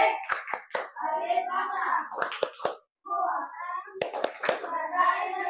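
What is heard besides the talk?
children clapping hands in rhythm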